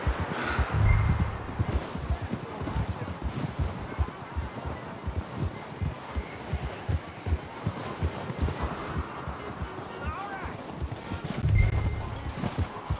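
Horse hooves clip-clop in the video game Red Dead Redemption 2, a steady rhythmic series of soft thuds close by, over a light windy outdoor ambience with occasional heavier low thumps.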